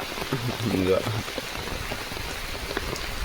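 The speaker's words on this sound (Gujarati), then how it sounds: "આ ચાલુ વરસાદમાં" Steady rain patters on a surface with a soft, continuous hiss, and a voice speaks briefly over it near the start.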